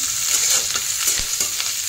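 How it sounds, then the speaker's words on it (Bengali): Onions fry together with browned eggs in a pan, giving a continuous close sizzle broken by soft stirring scrapes, with no talking. "পেঁয়াজগুলো দিয়ে দিয়েছি"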